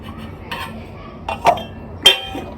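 A spoon stirs milk into malpua batter in a bowl, giving a few separate clinks and scrapes against the bowl spaced about half a second apart, close and moderately loud over a quiet background.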